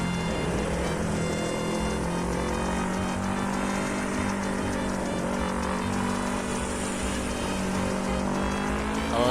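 A motorbike ridden solo on a busy road near Jakarta accelerates through traffic, its engine a loud, continuous drone with rising and falling revs, mixed with the surrounding hum of other vehicles.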